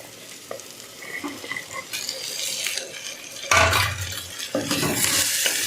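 Vegetables are stirred and fried with masala in a pan for chapati kurma, sizzling with scraping spoon strokes and clanks of the pot, the frying growing louder as fresh ingredients hit the hot pan.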